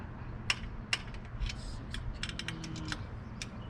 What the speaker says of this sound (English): So now that's snug, we're going to move over to the torque wrench.